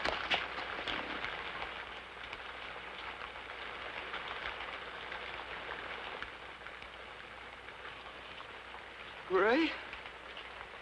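Soft, constant rain patter falling outdoors in the wilderness, a faint hiss that runs throughout, with a brief voice calling out near the end.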